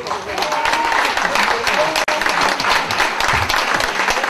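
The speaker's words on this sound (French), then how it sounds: "Je vous demande d'applaudir Danos Quentin Miboma." An audience at a Congolese artists' gathering applauds steadily for the president of Congo's artists, Danos Quentin Miboma, with dense, continuous clapping that fills the room and barely pauses.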